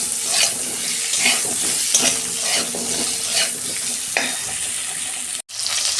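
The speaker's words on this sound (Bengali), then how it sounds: "এই যে বেগুন, আলু একসঙ্গে ভেজে নেব।" Eggplant and potato pieces fry together in oil with a steady sizzle, broken by stirring scrapes at close range, ending in a brief drop to silence.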